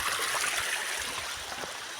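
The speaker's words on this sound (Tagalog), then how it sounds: "Ilog, ang linaw ng tubig." A small clear river runs in a continuous hiss of babbling water, close and steady, with light trickles and gurgles throughout and no talking.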